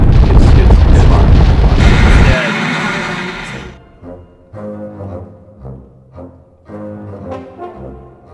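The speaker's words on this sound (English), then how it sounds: "This is divisional artillery, right there." Booming artillery fire from a divisional battery in a sand table battle demonstration, a loud sustained blast for the first couple of seconds that then gives way to quieter, uneven sounds.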